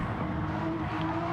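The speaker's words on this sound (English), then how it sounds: "Just listen to the sounds of the car" Steady race car engine drone from a GT car lapping the Nürburgring in a sim racing endurance event, a continuous, fairly loud tonal whine with no talk over it.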